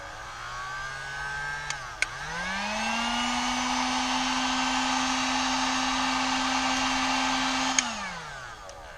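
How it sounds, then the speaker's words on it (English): A heat gun blows steadily close by while softening vinyl wrap for removal, a whooshing airflow hum with a brief click and a rise in pitch near the start, holding even, then winding down at the end. "Now I'm going to use a little heat just to see"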